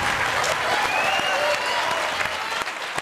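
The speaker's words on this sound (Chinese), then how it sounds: "掌声欢迎施怀" Studio audience on a Taiwanese TV quiz show breaks into steady, loud applause, a dense wash of clapping that holds for the whole stretch, with a voice briefly audible through it.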